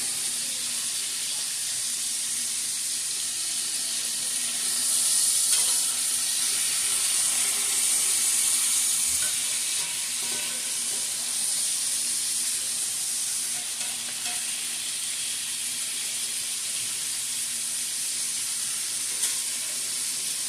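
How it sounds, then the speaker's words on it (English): Oxtails searing in a hot pan, a steady, loud sizzle and hiss of frying fat that carries on evenly throughout with no talk over it. "It's not really cooking, it's just searing. Like, it's just getting that little crisp on the one side."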